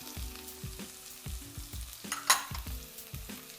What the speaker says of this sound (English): Give a quick stir so we don't burn the ingredients.